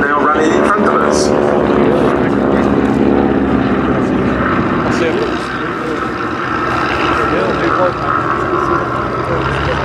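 Beechcraft Staggerwing and executive aircraft with Pratt & Whitney R985 radial engines running at an airshow, a loud steady propeller drone close by with slight swells, and talk over it.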